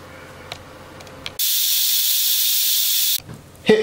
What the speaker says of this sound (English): It's time to release the pressure.